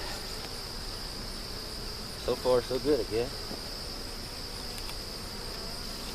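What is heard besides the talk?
bees buzzing while collecting honey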